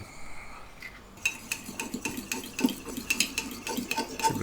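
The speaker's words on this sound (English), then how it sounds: "So I'm just going to whisk an egg up." An egg whisked in a bowl for sealing curry puff pastry edges, a fork clicking rapidly and rhythmically against the sides after a brief quiet start, close and fairly crisp with no voices.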